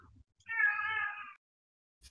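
A house cat lets out a single clear, drawn-out meow close by, standing alone against an otherwise quiet background.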